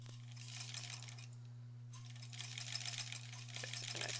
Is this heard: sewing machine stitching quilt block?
yes